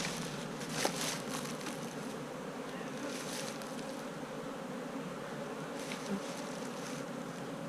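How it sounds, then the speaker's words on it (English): Bees buzz steadily around a hive box during a March nucleus colony inspection, a continuous close drone with a few louder passes near the listener and no speech. "these few bees we got left in this box, come around here and give them a slap"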